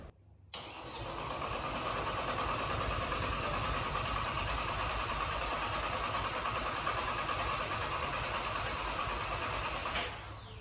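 A rebuilt Mercedes C250 engine cranks with its ignition coils unplugged, priming the dry system without firing. The starter whirs in a steady, continuous drone for about ten seconds before stopping, with no voices.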